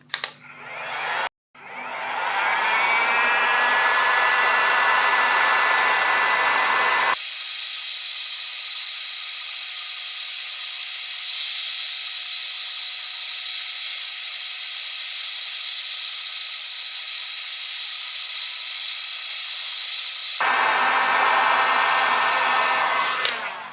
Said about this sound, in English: let's take a heat gun, use around 180 to 200 degrees Celsius and heat it up for a minute or two